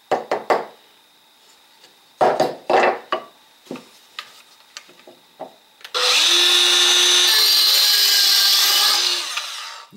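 A Makita SH02Z 3-3/8-inch cordless circular saw rips through wood in a loud, steady cut lasting several seconds, preceded by scattered knocks and handling clatter from boards and tools.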